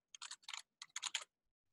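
Computer keyboard typing while writing code for an Android app: quick bursts of crisp clicking keystrokes in three clusters with short pauses, close and clear, no talking.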